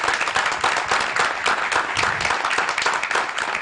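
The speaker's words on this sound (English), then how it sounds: "I'd just like to have one round of applause, please, for Zeynep and for Livio and for all of us." A round of applause from the audience at a talk on smart grids, dense steady clapping from many people close by, continuous for the whole stretch.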